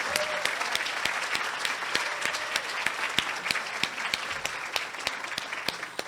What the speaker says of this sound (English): just want to give Drew a really big round of applause for the incredible work that he's done.